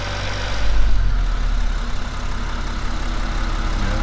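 BMW E60 535d diesel engine idling on a lift after cylinder head cleaning, a close, loud, steady low rumble with an even, fine-grained knock and a faint high whine, running alone throughout.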